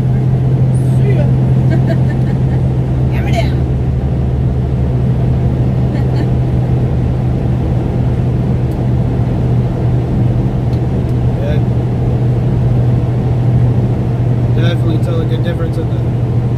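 A pickup truck, just back from a clutch repair, drives on a test run with a steady low engine drone and road noise throughout, plus a few brief clicks and rattles, while people talk inside the cab.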